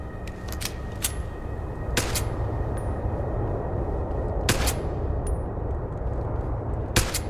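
Gunfire in the video game Deus Ex: Human Revolution: a few sharp, loud shot cracks spaced irregularly over a constant ambient game bed, with no talking.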